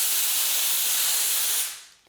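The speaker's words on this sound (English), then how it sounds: "we're just going to spray this through here so you can see the output" Water sprayed from an adjustable air blower snake tip as a direct jet, a loud steady hiss that stops abruptly near the end and trails off quickly.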